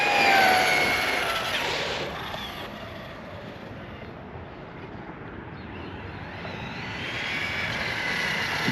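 An Arrma Talion EXB RC car speeds past, its electric motor whining high and loud, then fading as it moves away before swelling back, with tire and gravel noise underneath.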